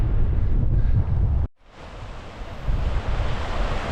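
Water cascades down a waterfall on Beinn Ghlas, a Scottish Munro, in a steady rushing wash mixed with wind buffeting, broken by one sudden momentary cut to near silence before the flow returns.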